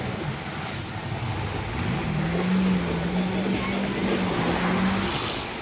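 A motorboat speeds over a choppy sea, with a droning engine, rushing water and wind noise, and a steady hum rising partway through while a voice is faintly heard.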